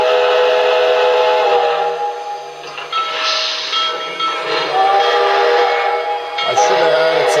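A model steam train, a Reading & Northern Pacific locomotive, runs with a whistle-like chordal tone sounding over it, wavering in strength, with rumbling and clattering beneath.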